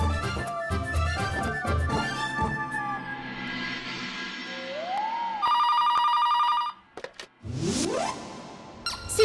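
Landline telephone ringing indoors in a dubbed French drama, a bright repeated electronic ring that stands out loud against background music and dramatic whooshes.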